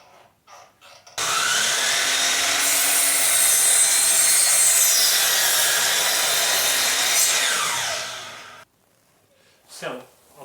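A power saw rips through wooden braces for a curved gate, a loud sustained cutting whine lasting several seconds before it spins down, with brief handling noises around it.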